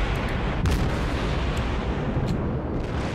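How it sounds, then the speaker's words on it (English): Heavy naval gun salvo from the German Tier X cruiser Hindenburg in World of Warships, deep booming bursts over a dense rumbling battle bed, with several quick reports stacked together. "give him a full broadside, mate. A full salvo."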